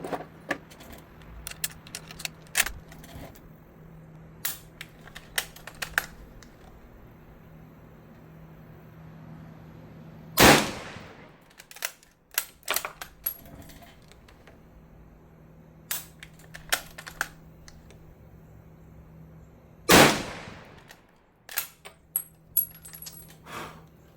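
Two sharp rifle shots from a Czech Vz 98/22 in 8x57mm, fired roughly ten seconds apart with an echoing tail. Quieter metallic clicks and rattles of handling fill the gaps between them.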